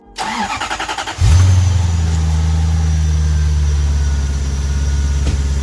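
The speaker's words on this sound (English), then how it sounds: "I'm gonna start the car up and we're gonna see if it starts smoking like crazy." A Lexus SC400 engine cranks with a rapid stuttering starter whir for about a second, catches with a loud rev, then settles into a steady, close, rumbling idle with no talking.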